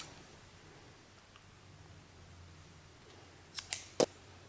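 Scissors snipping yarn while knitting slippers, heard as two quick close clicks followed by a sharper snap after a quiet stretch of faint room noise.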